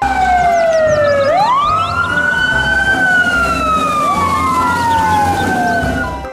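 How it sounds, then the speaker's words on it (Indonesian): Loud wailing toy fire truck siren rising and falling in repeated sweeps, close and continuous, with a low rumble underneath. "ada truk pemadam kebakaran"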